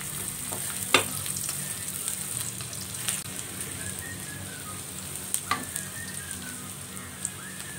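Shallots and garlic sizzle steadily in a hot pan for seblak mie seafood, a continuous close frying hiss with a few stirring scrapes and clicks, no voices.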